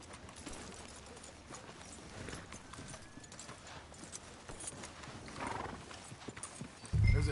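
Horse hooves clip-clop steadily in Red Dead Redemption 2, joined by an occasional whinny and a louder thump near the end, with no voices.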